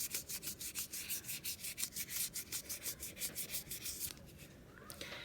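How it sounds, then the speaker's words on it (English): A pro polishing pad rubs rhythmically over a scratched surface, a steady series of close, even swishing strokes that stop near the end, leaving quieter rubbing. "now I got a pro polishing pad, and I'm gonna go after some of these scratches right here"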